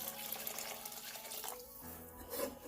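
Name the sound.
water poured over lima beans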